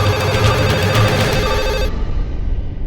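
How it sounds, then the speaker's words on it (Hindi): A household telephone rings loudly and insistently in a rapid, trilling pattern for about two seconds, then cuts off and leaves only faint room noise. "फोन उठाओ"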